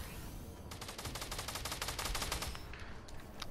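Rapid automatic gunfire in the Fortnite video game, a dense rattling burst of evenly spaced shots lasting a couple of seconds over a steady game background, with no talk.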